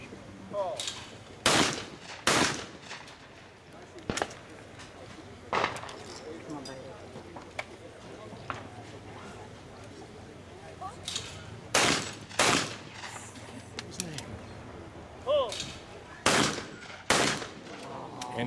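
Shotguns fire at clay targets during a world doubles shooting championship, with loud, sharp reports in quick pairs and singles spread through the clip and a voice talking between them.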